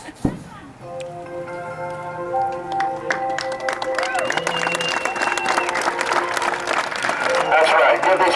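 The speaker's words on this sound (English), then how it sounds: "Give these folks a big round of applause." A crowd at a monster truck show applauds in a large outdoor venue, with steady clapping and cheering that swells toward the end over sustained musical tones from the arena sound system.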